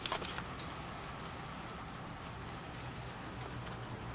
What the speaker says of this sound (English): We've got rain.